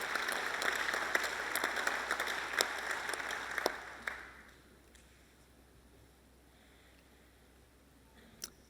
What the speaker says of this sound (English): please join me in a big round of applause for the winner of this award today, Baruka Trading Trust